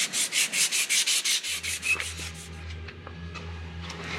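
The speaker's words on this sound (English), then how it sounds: "got some emery cloth on there and he's polishing up that surface" Emery cloth rubbed briskly over a metal part during a Deere 700J dozer undercarriage rebuild gives a quick run of rhythmic sanding strokes. The rubbing then gives way to a low steady engine hum in the background.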